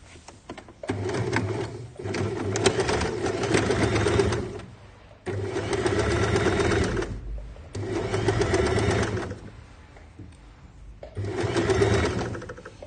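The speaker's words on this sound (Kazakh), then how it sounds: "Енді машинкаға отырып, екі тігістің ортасынан, міне екі тігіс жүр ғой параллель, соның ортасынан тігетін боламын." Sewing machine stitching gathers on fabric, sewing between two parallel lines of stitching, runs in four loud bursts with brief pauses between them as the fabric is adjusted.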